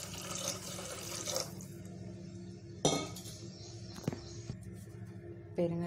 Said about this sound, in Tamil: ரசத்துக்கு தேவையான அளவுக்கு தண்ணி ஊற்றிக்கலாம்.